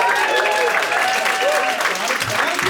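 Steady applause from a comedy club crowd, dense and continuous throughout at a moderate level, with faint voices mixed in.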